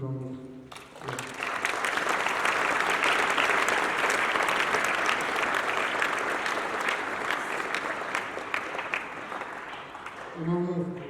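Sustained audience applause at a school speech day, a dense, loud wash of many hands clapping that swells quickly, holds steady for several seconds and then fades, with a voice heard briefly at the start and end.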